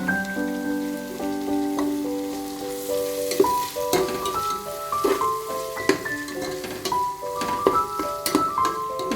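Chopped tomatoes hiss and crackle as they fry in a pan of softened onions for a beef curry, a steady close sizzle with scattered pops under a layer of tonal background music.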